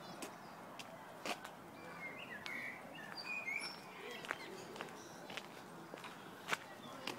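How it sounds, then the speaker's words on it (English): Birds chirping in a park outside a cafe, short tweets scattered near and far among footsteps and faint outdoor ambience. "Oh, look, there's lots of birdies."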